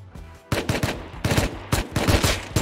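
Rapid gunfire in the survival video game Rust ends in a headshot, with loud bursts of automatic shots cracking in quick clusters after a brief quiet opening, several sharp reports repeating close by.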